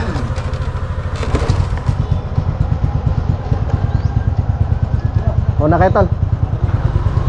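A motorcycle engine runs steadily nearby with a low, pulsing idle rumble throughout, while people talk over it.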